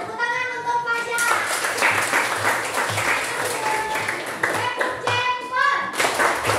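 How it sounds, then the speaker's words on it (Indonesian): Classroom audience clapping hands in applause for a child's demonstration, steady rhythmic claps filling the room with voices and chatter mixed in throughout. "Tepuk tangan untuk Fajar."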